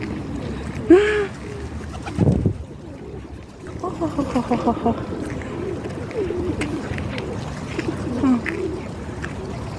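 White pigeons coo softly in short bursts amid outdoor background noise, with a few fluttery sounds and faint voices nearby.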